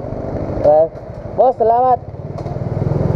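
A motorcycle fitted with a new stock muffler pipe idles quietly, a soft low rumble running beneath close conversation and growing slightly louder and more pulsing toward the end.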